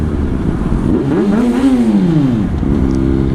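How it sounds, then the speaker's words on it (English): Yamaha Fazer FZ6 motorcycle engine idling loudly up close, then revved once, its pitch swelling and falling back to a steady idle. "Future bikers of tomorrow want to hear a bike rev, you've got to rev it"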